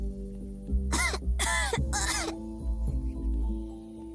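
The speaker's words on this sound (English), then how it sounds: "you really should get that cough looked at" A female character in the comedy adventure game 3 Minutes to Midnight coughs in three harsh, rasping bursts in quick succession over a low steady background hum.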